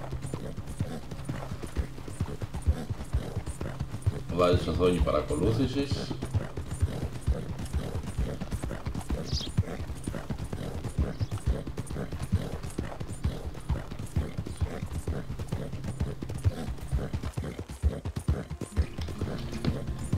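Horse hooves clip-clop in a steady trot through Red Dead Redemption 2, with a continuous rhythmic patter under a brief spoken line and light game ambience.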